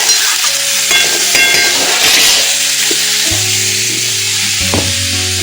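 Young jackfruit pieces fry in a pan for a Bengali jackfruit curry, a loud, close, continuous sizzle broken by clattering stirring scrapes, with no voices.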